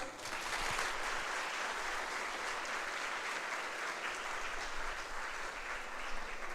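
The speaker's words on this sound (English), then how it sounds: "Let's end the ceremony by a loud round of applause." Sustained applause from a ceremony audience in an auditorium at a medical school white coat donning ceremony, steady dense clapping throughout without pause.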